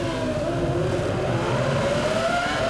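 Onboard a Formula 1 car driven by David Coulthard around Monaco, a loud continuous high engine whine rising steadily in pitch under acceleration, close and sustained.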